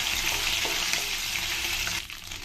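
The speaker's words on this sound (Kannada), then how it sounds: "ಈಗ ಇದೇ ಆಯಿಲಿಗೆ ಒಂದು ದೊಡ್ಡ ಸ್ಪೂನಲ್ಲಿ 1 ಸ್ಪೂನಷ್ಟು ಶುಂಠಿ ಬೆಳ್ಳುಳ್ಳಿ ಪೇಸ್ಟ್ ಹಾಕ್ಕೊಳ್ತೀನಿ" Ginger garlic paste frying in hot oil in a pan while vegetable biryani is being made, a steady loud sizzle with faint stirring scrapes, easing off slightly near the end.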